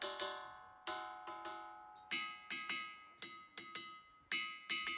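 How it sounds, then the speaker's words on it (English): Ringing rocks of Montana struck by hand ring out with bright, bell-like metallic tones, a series of irregular strikes each decaying quickly. "These are called the ringing rocks of Montana,"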